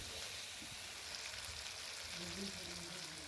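Ginger, garlic and onion paste, crushed with jaluk seeds, frying with salt in a pan of chicken meat, giving a steady soft sizzle throughout, with faint background tones near the end.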